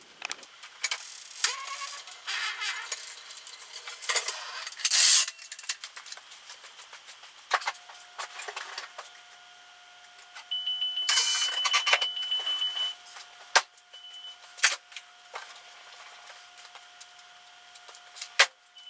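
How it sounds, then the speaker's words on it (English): Saab 9-5 NG being lowered on adjustable suspension, with intermittent mechanical clicks, ratcheting and whirring bursts separated by quiet gaps, close and moderately loud, no talking. "Let's try to lower the car and see how this looks"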